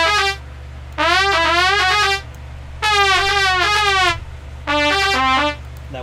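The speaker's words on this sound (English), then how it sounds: "whenever a character speaks, you get a sound like this" Chiptune-style speech blips for characters talking in The Return of the Necrodancer, three bursts of rapid, wobbling synthetic tones each lasting about a second, loud and clear with short gaps between them.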